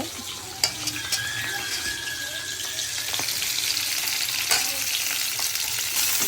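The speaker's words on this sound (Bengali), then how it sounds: "ফুলকপিগুলো তেলে ভেজে নিচ্ছি হালকা করে" Lightly steamed cauliflower florets fry in hot oil with a steady close sizzle, while stirring adds scraping and occasional sharp clinks throughout.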